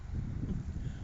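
Brief low, buffeting rumble of wind blowing across a microphone, steady and close.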